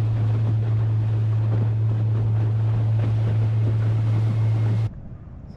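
Strong wind buffets the microphone on a boat in the mangroves, with choppy water and a steady low engine drone underneath that cuts out near the end, leaving quieter wind.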